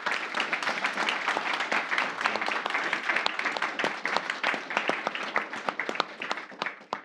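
Audience applause after a panel of experts thanks its guests: dense, continuous clapping from many hands at steady loudness, with no voices.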